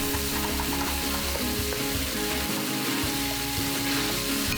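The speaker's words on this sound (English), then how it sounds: "Stir around your garlic and ginger as the wine cooks off in the heat" Garlic and ginger hiss loudly in a hot wok as Shaoxing wine cooks off, a dense, continuous sizzle with stirring scrapes and rumbles underneath, close and strong.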